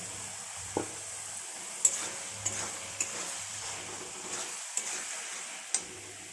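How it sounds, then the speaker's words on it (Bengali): Soybean chunks are stir-fried in a pan with soft, sparse spatula taps and scrapes about once a second over a faint low sizzle, quiet and close. "এর মধ্যে আমি সোয়াবিনটা দিয়ে কষিয়ে নেব একটু"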